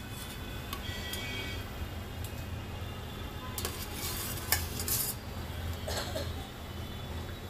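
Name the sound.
fried potatoes added and stirred into boiling curry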